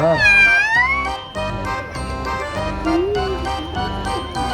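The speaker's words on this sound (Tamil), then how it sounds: "பூனை பூனை பூனை." A cat at a small zoo in Ajman, UAE, gives a long, loud, close-up meow, followed by a series of shorter rising and falling cries.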